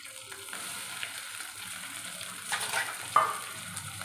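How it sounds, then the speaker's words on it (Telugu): Vegetables fry in a pan with roasted onions, a soft, even sizzle heard close by at low volume, with a couple of faint stirring scrapes and a small clink near the end. "ఆనియన్స్ కొంచెం రోస్ట్ అయ్యాక ఇక వెజిటేబుల్స్ అయితే వేసుకుంటున్నానండి"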